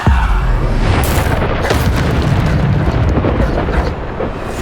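Bombarda blasting spells from the Hogwarts Legacy video game, a loud continuous barrage of booming explosions and bursts filling the whole stretch, with a voice faintly present underneath.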